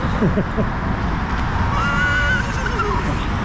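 A voice imitates a horse's whinny, a rising then wavering cry over steady outdoor road noise, with some talking nearby.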